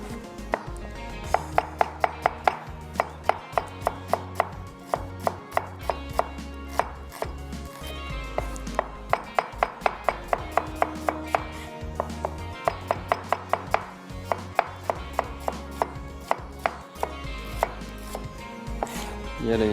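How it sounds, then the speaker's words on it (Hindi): Rapid knife chops slicing onion on a cutting board, steady and close, with quick bursts of strikes separated by short pauses over a low background hum. "प्याज, इसको थोड़ा सा हमने स्लाइस कर लेना है पहले"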